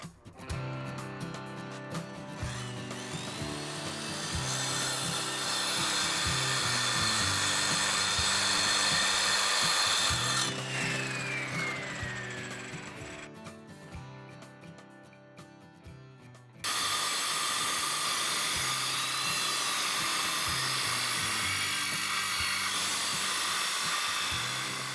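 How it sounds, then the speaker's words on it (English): Power saw cutting dry through a paving stone, a loud, steady high-pitched whine and grind that dips midway and then resumes sharply. "we're going to show you what it looks like to cut a stone dry"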